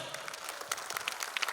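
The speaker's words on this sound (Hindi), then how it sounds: "आपकी तालियां बनती है बॉस" An audience claps at an annual day dance show before the performance begins, a brief patter of scattered claps with some sharper individual hits.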